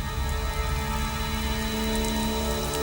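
Steady rain falls in a dense, even hiss during a horror movie scene, with a low hum running beneath it and no voices.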